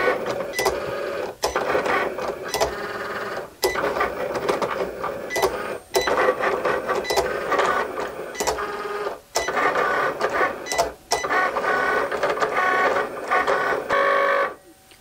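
A Cricut cutting machine works through an infusible ink transfer sheet, its carriage buzzing and whirring loudly in repeated long passes broken by brief pauses, near and mechanical.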